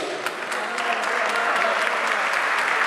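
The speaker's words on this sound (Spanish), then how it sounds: "Y que el aplauso no se detenga" An audience at a tango show in Valparaíso claps steadily throughout, a dense, even wash of applause from a full crowd.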